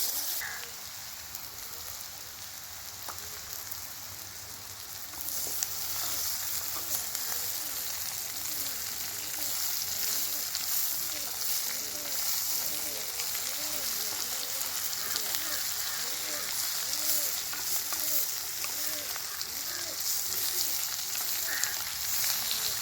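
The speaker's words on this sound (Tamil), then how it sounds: "வெங்காயம் எப்போ நல்லா வதங்கி வருது இதில் நம்ம இப்போ பாவக்காய் சேர்த்துடலாம்" Sliced bitter gourd and onions sizzling steadily in a pan, a continuous frying crackle that grows a little louder partway through and holds, close and even, with some voice faintly underneath.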